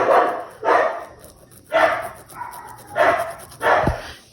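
Several dogs bark in short bursts, about five loud barks spread unevenly across the stretch, fairly close, with quieter gaps between.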